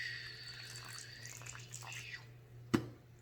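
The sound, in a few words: warm water poured into a bowl for edible slime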